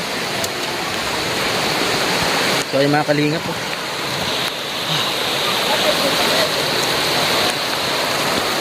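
A river flows in the rain at an outdoor anniversary gathering: a constant loud rush of water and rainfall fills the scene, and a person talks briefly over it.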